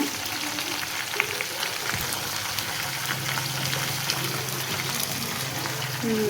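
Ridge gourd curry frying in oil as ground masala goes into the pan, a steady close sizzle with faint stirring and small clinks throughout, no talking.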